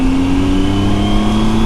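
A motorcycle engine drones steadily and loud up close on a road trip between Reno, Nevada and Chester, California, its pitch holding a sustained hum as it pulls under throttle.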